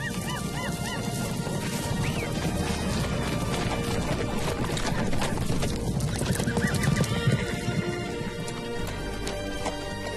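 Circus horses, stallions and mares, neigh and whinny over a dense busy background, with hoof clip-clop and barking dogs mixed in throughout.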